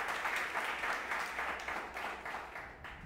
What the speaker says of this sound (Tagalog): Palakpakan po natin si Jesus.